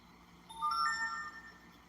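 A phone rings with a bright, melodic ringtone of stepped electronic tones lasting about a second and a half, fairly clear and close, with no talk over it.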